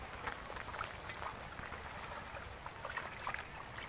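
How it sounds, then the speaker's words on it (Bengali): Fast-moving floodwater rushes past in a faint, continuous wash of noise, with small splashes and gurgles surfacing now and then, and no voices. "এই যে অনেক জোরে যাচ্ছে পানি"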